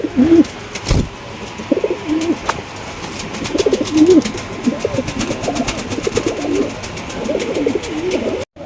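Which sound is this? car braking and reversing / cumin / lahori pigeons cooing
lahori pigeons cooing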